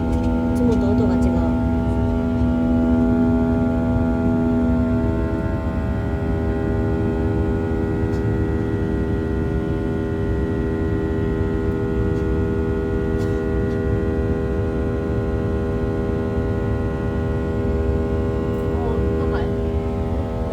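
A steady, droning hum fills an airplane cabin, loud and continuous with a faint higher whine layered on top, and no talking over it.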